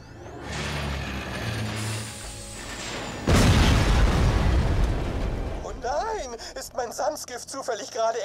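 A sudden loud explosion in Borderlands 2 bursts in mid-clip over game music and mechanical clatter, followed by a rumbling tail, then a voice starts talking.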